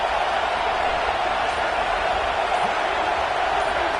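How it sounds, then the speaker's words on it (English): Steady stadium crowd roar from the college football video game NCAA CFB 26, a dense, even wash of noise holding at constant loudness throughout with no distinct peaks. "And here comes the noise. This crowd is trying to inspire this defense"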